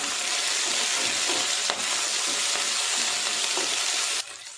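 Ginger, garlic and coriander stems sauté in a hot pan with a loud, dense sizzle and occasional stirring scrapes. The hiss drops off sharply at the end.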